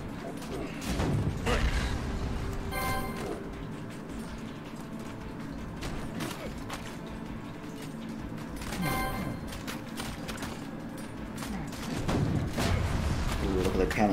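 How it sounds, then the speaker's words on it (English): Cannons fire in the VR strategy game Tabletop Gods on the Oculus Rift, a steady run of mechanical clanks and booming shots over busy battle noise, with a couple of brighter bursts standing out. "look at the cannons go."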